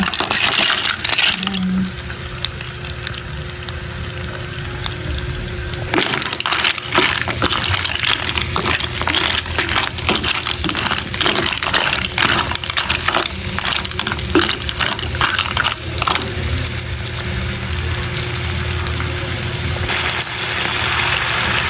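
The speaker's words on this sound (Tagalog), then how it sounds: "ilalagay ko na po itong ating tahong" Fresh mussel shells clatter and crunch against a metal pot as they are tipped in over sautéed onion, a dense scraping rattle with steady background hum.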